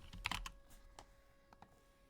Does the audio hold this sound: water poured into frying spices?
no